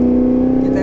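A 2023 Cadillac Escalade-V in V mode, its exhaust holding a loud, steady, droning rumble with a strong low tone throughout the short moment, and a voice faintly present underneath.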